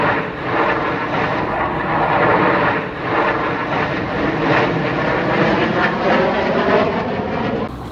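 Airplanes fly over an air show, a loud sustained engine roar that swells and eases in waves with no voices.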